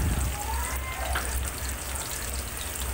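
Onion pieces for drumstick sambar fry in hot oil with cumin and mustard seeds, giving a steady, moderately loud sizzle and crackle that runs evenly throughout.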